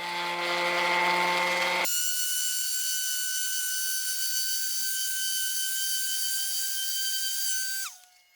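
A sander with a 50 grit disc grinds a DIY concrete countertop, a loud high-pitched whine that shifts sharply in tone near the start, holds steady, then winds down abruptly at the end.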